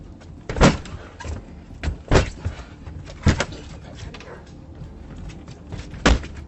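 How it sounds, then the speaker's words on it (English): Men kick and slam against the door of a house, captured by home security footage: four heavy, booming thuds at irregular intervals, separated by a low murmur of background noise. "He and his accomplice begin kicking down the door."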